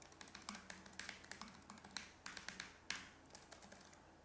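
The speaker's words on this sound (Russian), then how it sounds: "это клавиатура." Keystrokes on a white Keychron K3 wireless mechanical keyboard, a steady run of fairly loud, crisp clicks in quick irregular rhythm, heard up close with no talking.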